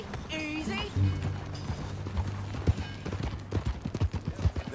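Horse hooves clip-clop in a quick, uneven rhythm in the video game Red Dead Redemption 2, growing more distinct toward the end, with voices speaking over the start.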